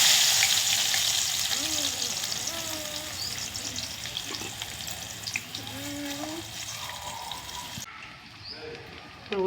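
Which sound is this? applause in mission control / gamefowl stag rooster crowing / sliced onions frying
sliced onions frying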